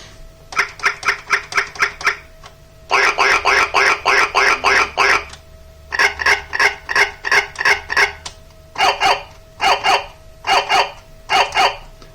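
Electronic duck quacking sound effect from a BigFun 37-key toy piano keyboard, played as a rapid string of repeated synthetic quacks in bursts separated by short pauses, over a faint steady hum.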